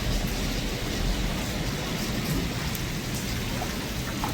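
Heavy rain pours down steadily during Typhoon Danas in Taiwan, a loud continuous wash of drops with a deep rumbling undertone, unbroken throughout.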